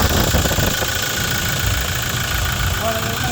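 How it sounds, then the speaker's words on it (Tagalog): A Toyota Innova 2.8 diesel idles after its EGR valve has been cleaned, giving a steady, loud mechanical rumble and clatter heard close up with no breaks. "Ito, naririnig na natin yung tunog ng makina."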